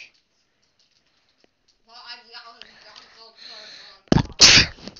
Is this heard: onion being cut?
no